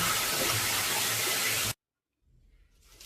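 Young summer radish being washed in clean water for kimchi: loud running water pours steadily, cuts off abruptly, and is followed by faint, quiet handling sounds.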